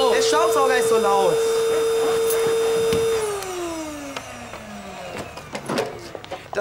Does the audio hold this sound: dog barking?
no